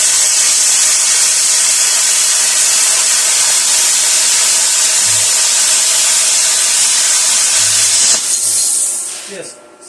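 A VEVOR plasma cutter slices quarter-inch steel with a loud, steady hiss that runs unbroken for about eight seconds before cutting off and fading, with faint low clunks partway through.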